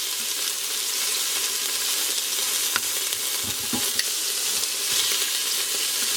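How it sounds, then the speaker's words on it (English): Shredded beef sautés in an Instant Pot on the sauté setting, a dense, even sizzle close up with a couple of faint clicks and stirring sounds, and no speech. "And this is in my Instapot, and it's on a saute setting, and it's working pretty quick."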